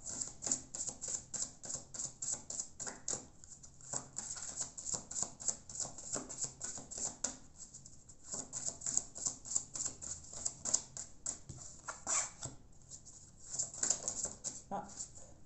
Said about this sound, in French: je vais tirer, pendant que je vais poser les 3 cartes